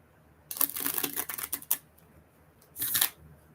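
Tarot cards are shuffled close up in two quick riffling bursts, crisp papery flutters separated by a short pause, with no talking.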